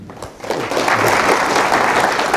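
An audience claps at a university welcome and land acknowledgment event, applause swelling quickly after a brief start and holding as a full, steady patter of many hands.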